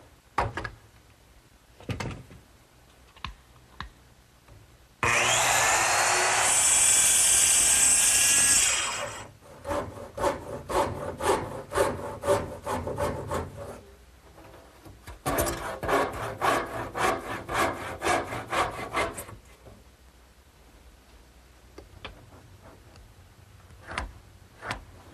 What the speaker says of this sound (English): I've set up a straight edge clamp for the long cut, which actually guides the base of my little circular saw, and now I'll just cut the angles freehand.